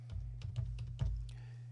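Close keys being tapped on a computer keyboard while a file name is entered in photo encryption software, about six quick uneven clicks over a low steady hum, with no voices.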